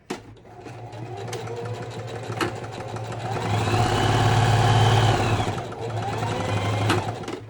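A sewing machine stitches a fabric face mask with a steady mechanical hum and rapid needle chatter that swells louder in the middle and then eases, with brief clicks at the start and end.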